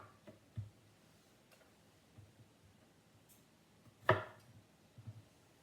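Kitchen knife trimming the root end off a small onion on a cutting board, a few sparse quiet taps and clicks with one sharper louder chop near the end, no speech.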